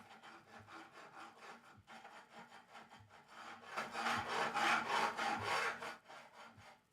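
A hand tool is drawn back and forth along the wooden edge of a guitar neck on a repair bench, giving a rhythmic rasping scrape in quick regular strokes that grows louder midway, close and with no talking.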